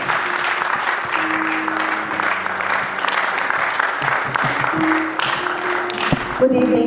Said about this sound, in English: We can clap a little more.